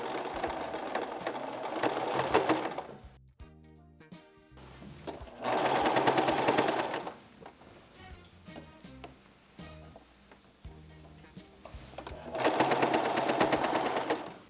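A sewing machine stitches lace around a garment yoke, running in three loud bursts of steady whirring separated by pauses with quieter mechanical ticking.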